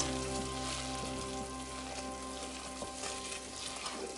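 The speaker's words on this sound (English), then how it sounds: "So this is how we make caramel. So keep stirring, guys." Caramel for popcorn sizzles and bubbles in a pan as it is stirred, a steady close frying hiss with a faint background hum and no talking.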